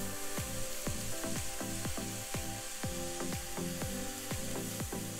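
Chicken enchilada mixture with cumin and cilantro fries steadily in a skillet and is tossed, sharp scraping stirs repeating about every half second over a constant close sizzle.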